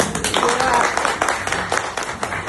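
Indoor audience applause at a Bangla-language business seminar, a steady wash of many hands clapping that swells early and holds through the whole moment, fairly loud and close.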